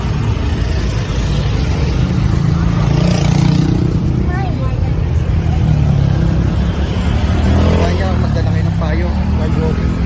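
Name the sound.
traffic on EDSA highway while walking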